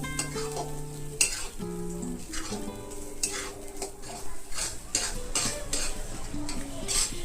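Grated corn roasting in oil in a pan, stirred continuously: steady close sizzling with repeated scraping strokes of a spoon against the pan bottom, no voices.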